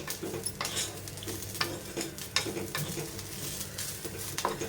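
Grated dry coconut roasting in a pan over medium heat, with garlic cloves and ginger nearby, gives steady scraping and stirring with soft sizzle, spatula strokes repeating at close range.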